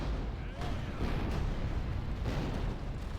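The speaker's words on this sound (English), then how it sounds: "Right, the cannons will start firing soon." Cannon fire from a siege battle in Lucium: Total War, a dense continuous rumble of repeated booms and low blasts with no clear gaps, loud and muddy throughout.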